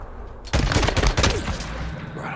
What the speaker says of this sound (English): Heard a gunshot somewhere.